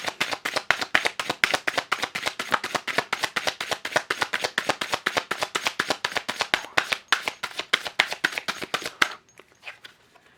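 Energy cards are shuffled in a steady, rapid run of crisp riffling snaps, close and loud, for about nine seconds before stopping abruptly into near silence.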